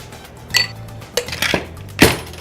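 Handcrafted ice cubes drop into a cocktail shaker in three separate bright clinks and clatters, close and fairly loud, spaced about half a second apart with quiet between them.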